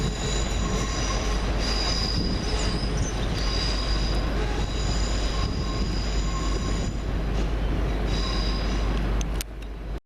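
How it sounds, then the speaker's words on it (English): Electric passenger train 17432 departing Reston station rumbles steadily past at close range, wheels squealing with high metallic whines over a constant low roar that cuts off abruptly at the end. "Train just off to Tweedbank."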